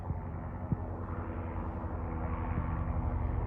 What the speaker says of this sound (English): As a helicopter goes over my mind, I'm kind of losing the thought here.